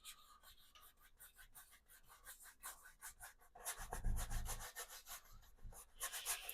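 A brush scrubbing paint onto wood in steady back-and-forth strokes, close and dry-sounding, with a heavier rubbing passage midway.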